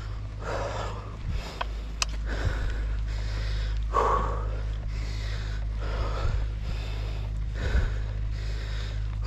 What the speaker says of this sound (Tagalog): Hingal kabayo na.